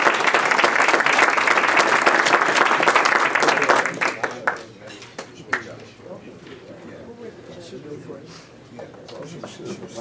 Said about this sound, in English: One last applause.